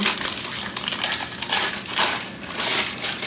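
Parchment paper crinkles and crumples in bursts as it is pressed and shaped into a quiche pan for a portobello and Gruyère quiche, close and fairly loud with no talking.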